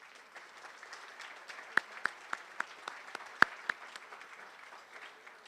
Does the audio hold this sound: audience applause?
yes